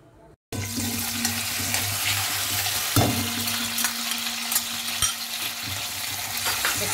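Onion, chilli, ginger and garlic frying in hot oil for cabbage poriyal, a loud, dense crackling sizzle starting abruptly and running steadily, with a low background hum and an occasional knock of a utensil.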